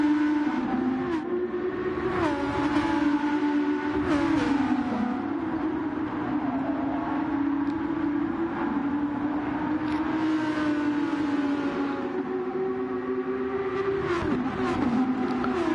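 Race cars in a URL Sunday League Pro-Am race accelerate up a hill, engines droning and revving steadily with shifting pitch as several cars pass in sequence, loud and continuous without any talk.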